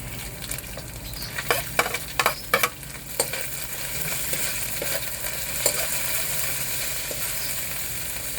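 Flaked, bony fish sautéing in a pan for a Filipino vegetable dish with coconut milk: a steady close sizzle, with a quick run of sharp spatula scrapes and clinks early on before the frying settles into an even hiss.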